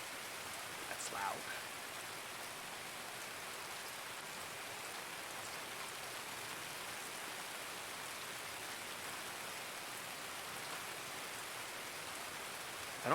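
Constant rain in the game Escape from Tarkov, a dense, even hiss of falling drops that holds steady and fairly loud for the whole stretch with no one speaking.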